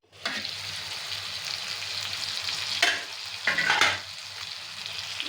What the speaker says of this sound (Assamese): বহুত টাইম ভাজিব লাগে